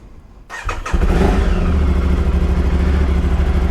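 An Aprilia Tuareg 660 motorcycle engine cranks with a few clattering turns, then catches and settles into a loud, steady close idle.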